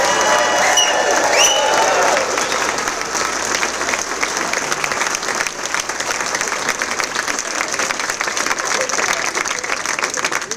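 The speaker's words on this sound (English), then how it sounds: "Please give them a big round of applause." Guests at a Hall of Fame awards dinner give scholarship winners a full round of applause. The steady, dense clapping fills the whole stretch, with some cheering mixed in near the start.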